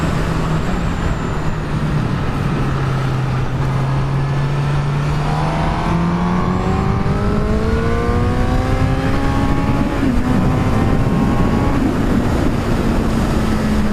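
A 2017 Honda CBR1000RR Fireblade SP1 sportbike engine heard while riding, a loud, continuous drone that rises steadily in pitch through the gears over strong wind rush, with no talking.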